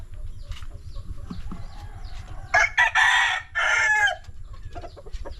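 A backyard rooster crows loudly in two long, strained bursts, close by, with softer clucking and farmyard noise before and after.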